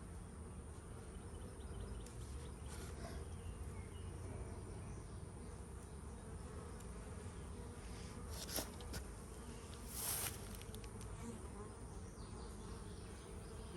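Honey bees hum in a steady, dense drone around their hive, the buzzing continuous and close throughout with a couple of brief louder swells from passing insects near the end.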